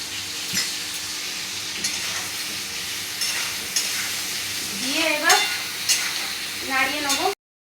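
Pumpkin and other vegetables fry in a pan with salt and turmeric while a spatula stirs them, giving a steady close sizzle broken by repeated scraping strokes.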